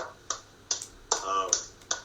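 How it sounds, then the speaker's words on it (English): Slow, deliberate handclaps given as a tribute, five or six sharp claps spaced roughly every half second, close and distinct with no talking in between. "we can give you the slow clap"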